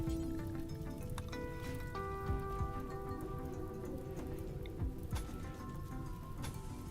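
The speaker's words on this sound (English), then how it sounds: "There's some rain." Rain falls in the video game RimWorld, Medieval Overhaul mod, as a steady, even hiss of patter that runs throughout beneath tonal game music.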